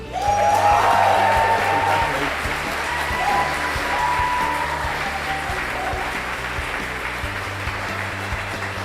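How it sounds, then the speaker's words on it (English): Graduation ceremony audience applauding the class of 2024: sustained dense clapping from a crowd, loud at the start and easing slightly while continuing steadily to the end. "let's give a big round of applause to the class of 2024"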